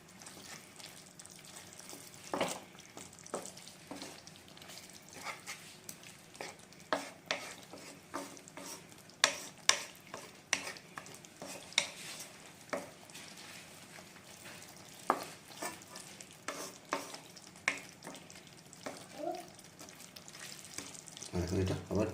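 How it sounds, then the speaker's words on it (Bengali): Spices mixed with a little water in a pan for potol posto, faint wet sizzling under repeated light spoon taps and scrapes spread unevenly over a long stretch, quiet and close. "এটা এখন অল্পটা জলের সাথে মশলাগুলো মিক্স করে নেব"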